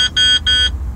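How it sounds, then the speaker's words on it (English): Two loud electronic beeps in quick succession, each a bright harmonic tone of about a quarter second, over a low background hum. "Okay, now it's gonna start beeping."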